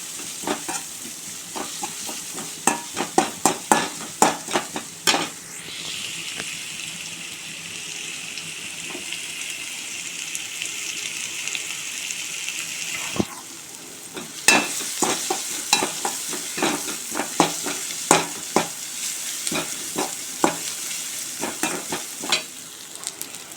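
Mustard seeds, urad dal, dried red chillies, curry leaves and shallots frying in oil, a steady loud sizzle broken by many sharp spatula scrapes and taps against the pan, with a brief quieter lull midway before the stirring resumes.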